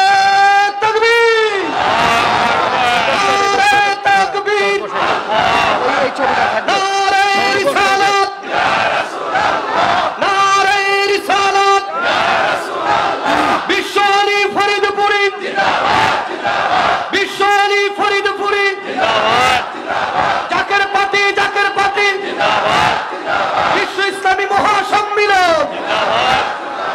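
A large crowd at a Zaker Party gathering chants back loudly in repeated rhythmic waves of massed voices answering a religious rallying call over amplified sound, the cycles continuing one after another.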